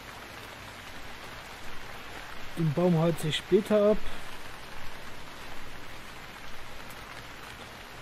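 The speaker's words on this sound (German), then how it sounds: "Und dieser scheiß Regen, ey." Steady rain in the survival game Stranded Deep, a soft, constant hiss of falling drops that runs throughout while someone speaks briefly over it.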